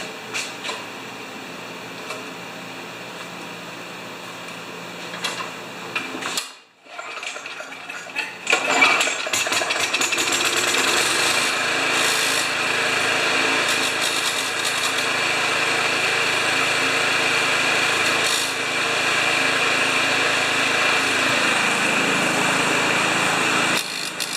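A Murray riding mower's Briggs & Stratton engine goes quiet, then cranks and catches, settling into a steady, loud running drone that continues to the end.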